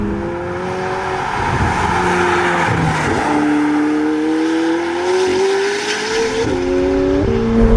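A McLaren 765LT with a Novitec exhaust blares loudly and steadily, pitch climbing through repeated upshifts with brief dips at each gear change.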